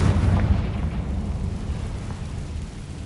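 A Confringo fire spell blast in Hogwarts Legacy, a loud, dense rumbling explosion that hits at once and slowly tails off over a few seconds, with no voices.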